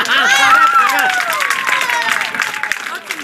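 A kavi sammelan audience at a Hindi poetry gathering breaks into loud, dense applause mixed with cheering, whoops and overlapping crowd voices, holding steady for about three seconds before easing slightly at the end.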